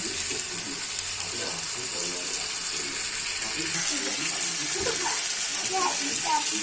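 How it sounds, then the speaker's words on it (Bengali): Water poured into a pan of simmering poya fish curry gives a steady, continuous hiss and sizzle throughout, with faint voices in the background. "একটু হালকা পানি দিয়ে দিচ্ছি।"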